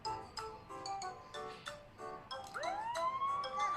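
Toy-like police car siren rising into a wailing sweep toward the end, preceded by jingly electronic chimes and tones, fairly faint and heard alone without talk.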